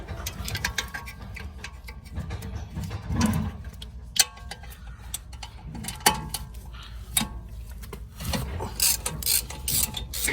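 A ratchet clicks rapidly while loosening bolts, bursts of close, crisp pawl ticking broken by brief pauses and scattered metallic knocks.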